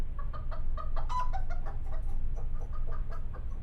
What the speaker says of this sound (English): What's that noise? Our chickens, Henny, Penny, and Maxine.